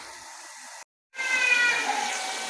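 Water splashes into a pan of frying pumpkin and chana dal, a hissing, sizzling rush that briefly stops, then surges back louder and keeps bubbling steadily.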